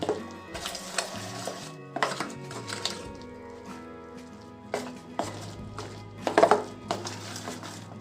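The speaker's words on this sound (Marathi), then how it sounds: "आता हे सर्व मिश्रण आपण छान मिक्स करून घेऊ" A spoon stirs a spiced chana dal pithla mixture with chilli and asafoetida in a bowl, giving repeated scraping clinks and taps of varying loudness over a steady low background hum, with no talk.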